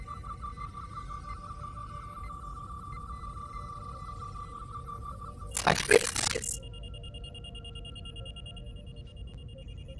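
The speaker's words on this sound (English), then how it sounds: "Beeping doesn't happen in the normal scans, right?" Beeping from a scanner in the video game Star Trek: Resurgence: a steady repeating electronic tone pulses under a brief burst of noise, with a single short spoken word midway.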